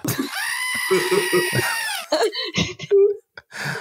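A person imitates a goat scream with a loud, strained bleating cry that wavers for about two seconds, followed by shorter vocal bursts and a brief whoop, close and prominent.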